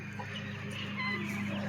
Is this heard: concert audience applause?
no